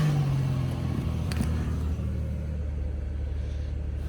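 A Chevrolet Monte Carlo engine cranks over and catches, settling into a loud, close, low rumbling idle that fades slightly toward the end.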